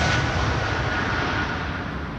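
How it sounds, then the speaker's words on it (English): A Croatia Airlines Airbus A320 roars on its takeoff run from Amsterdam Schiphol in windy weather. The broad jet rumble is loud and steady, then eases slightly as it pulls away. No one speaks. "Croatia Airlines taking off A320, beautiful machine"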